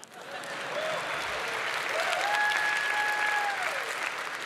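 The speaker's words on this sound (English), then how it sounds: "give it a round of applause" A large audience at a smartphone launch event claps steadily and loudly in a dense, sustained wash, with faint whistles and tones above it.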